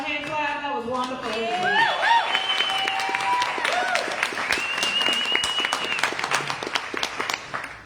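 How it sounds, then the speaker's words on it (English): Audience applause at an open mic poetry reading, a steady wash of hand clapping running the full length with scattered cheers and voices mixed through it. "Another hand clap."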